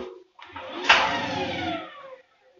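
Brushed motor of a Bosch Maxx 7 washing machine with a 7 kg drum spinning up briefly, a rising whine with a sharp onset that holds for about a second and a half, then winds down, close and alone.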